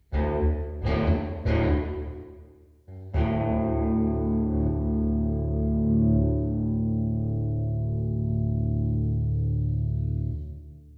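An electric guitar plays through a Fractal Audio Axe FX III with the reverb at 100% mix: a few sharp picked notes, then a sustained ringing chord that slowly fades under a long, washy tail.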